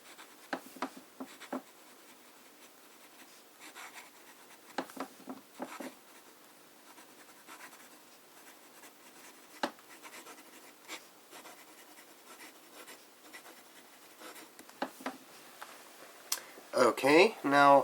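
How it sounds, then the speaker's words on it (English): Fine-nib writing with Rohrer und Klingner Salix ink, faint scratchy pen strokes in short irregular bursts on paper, quiet and close, with a sharp rustle near the end. "I think we should start with some fine writing."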